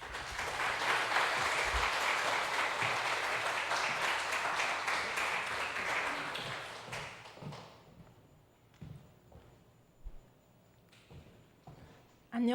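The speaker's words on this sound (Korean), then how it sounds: "우리 연민 전도사님 나올 때 환영의 박수해 주시기 바랍니다" A church congregation applauds during a Sunday worship service to welcome an evangelist to the front, dense sustained clapping for about seven seconds before it thins into scattered taps and quiet room noise.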